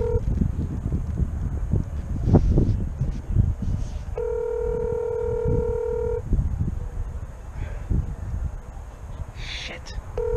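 A mobile phone call rings unanswered outside a NASCAR race venue, a steady repeating ring tone in the middle of the clip over crowd and outdoor noise, with a brief beep near the end.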